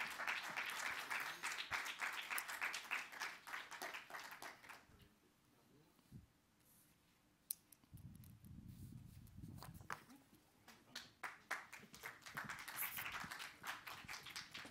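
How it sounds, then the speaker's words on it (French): Applause rises from the audience at the 2021 Innov'Acteurs innovation trophy ceremony for the CAF 64 winners, a full burst of clapping that thins to scattered claps and low murmuring, then swells again near the end. "On peut encore les applaudir une nouvelle fois"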